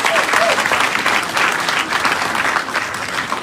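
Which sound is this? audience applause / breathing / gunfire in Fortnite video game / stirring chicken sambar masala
audience applause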